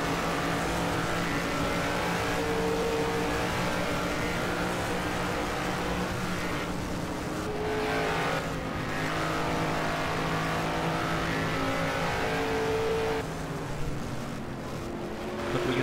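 1971 Can-Am race cars, including the Works McLaren, race at Donnybrooke with a continuous, loud engine roar that rises and dips slightly as the cars pass through a fast section.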